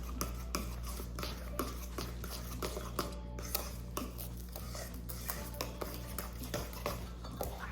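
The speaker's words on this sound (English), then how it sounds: "And then mix well until that's combined." Banana bread batter being mixed in a bowl by hand for a cozy weekend bake, a steady run of soft scraping and light tapping clicks against the bowl, close and continuous with a low background hum.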